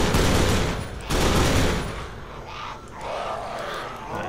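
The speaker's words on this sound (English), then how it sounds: "Explosions!" Dense, loud bursts of gunfire and explosions from a zombie-shooting action video game roar continuously, surging in two heavy waves before settling into a lower rumbling clatter.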